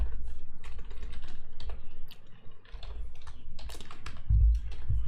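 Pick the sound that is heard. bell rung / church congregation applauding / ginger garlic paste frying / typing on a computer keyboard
typing on a computer keyboard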